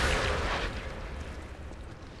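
Decaying enemies exploding in the video game Lies of P, a loud booming blast at the start that rolls off into a rumbling tail over a couple of seconds, no voices.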